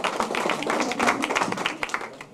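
Applause at a civic ceremony honoring a speaking guest: a crowd of hands clapping in a dense, irregular patter that thins toward the end, with a few louder individual claps standing out.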